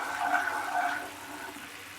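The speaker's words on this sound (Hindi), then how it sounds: "इसे 5-6 मिनट अच्छे से बॉईल कीजिए। देखिए फ्रॉदी हो गया, इसमें झाग बन गया है।" Jaggery syrup boiling and frothing in a pan while it dissolves, a steady close bubbling and hissing rush that stays continuous throughout, slightly louder at first, with no talk.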